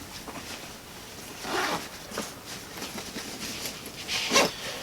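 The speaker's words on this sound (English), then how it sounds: "I'll start zipping these pockets up." Pockets on an REI Co-op Signal 28 backpack being zipped shut, a few quick rasping zip pulls of varying length, close and fairly quiet, with no talking.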